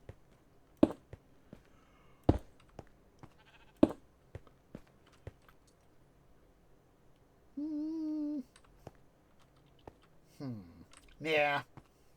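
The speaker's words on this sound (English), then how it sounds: "yes, sheepy sheeps, I know you're there." Minecraft sheep give a couple of short, quiet bleats in the game, the second rising and wavering, set among sparse soft clicks in a mostly quiet scene.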